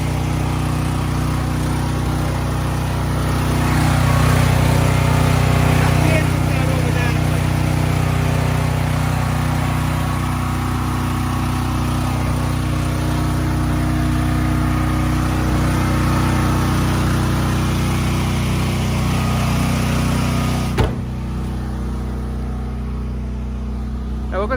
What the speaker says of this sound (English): Now the generator is running.